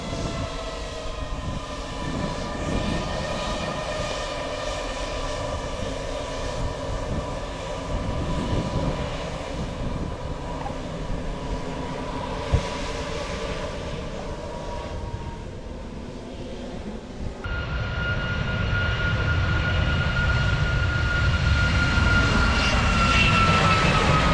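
A loud, steady airplane jet engine roar during departure holds throughout, swelling noticeably louder partway through as the aircraft powers up, with no voices.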